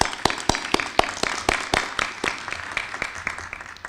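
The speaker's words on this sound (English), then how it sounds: "Let's give them a round of applause." Conference audience applauds after a scientific presentation introduction, a dozen or so sharp distinct claps at first that blur into a thinner, fading patter.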